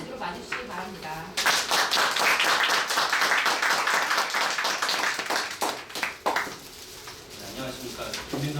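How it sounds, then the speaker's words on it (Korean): An audience bursts into applause to welcome a lecturer at a Korean seminar session on smart media communication, a dense loud wash of clapping that swells after a brief lead-in, with a voice speaking over the start and end. "김민석 부장님을 큰 박수로 맞으시기 바랍니다."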